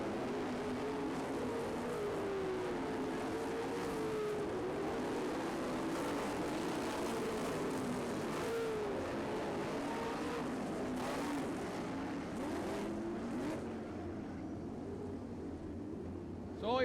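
Race car engine noise at Road America as the No. 7 car exits turn 4 toward the checkered flag, a steady, loud sustained roar with shifting engine tones over the full stretch, with a sharp burst at the very end.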